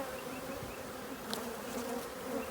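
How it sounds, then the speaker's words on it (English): Agitated honey bees drone around an opened hive full of honey frames, a dense continuous buzz close by with a few louder passes of single bees, and no talking. "This is just a pissed off hive."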